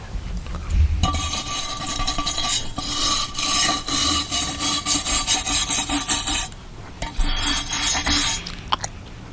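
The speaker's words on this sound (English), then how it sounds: "Sometimes just by wire brushing the surface of the metal will make good for a clean weld" A wire brush scrubbing a metal surface before welding, making loud, close, rhythmic rasping strokes in quick bursts, with a short pause midway before the brushing resumes.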